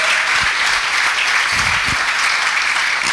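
A church congregation breaks into dense, sustained applause, many hands clapping together at a steady loud level for the whole stretch.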